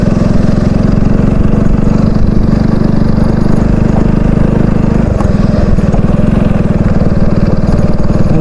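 Sandblasting equipment runs at night in a shipyard, giving a loud, constant mechanical drone and hiss that holds steady throughout with no pauses.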